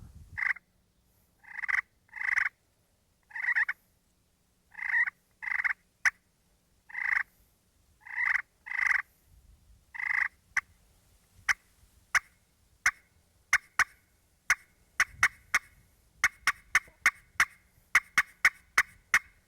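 A pot-and-peg turkey call with a glass surface and man-made striker imitates turkey sounds: evenly spaced yelps at first, then quicker, sharper clucks and cutts in a rapid series, loud and close.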